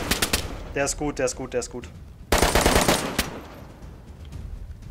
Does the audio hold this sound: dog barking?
no